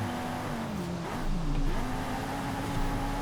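Car engine under throttle in Forza Horizon during a street endurance race, a steady droning engine note that dips and then climbs as it accelerates out of a corner, loud and continuous.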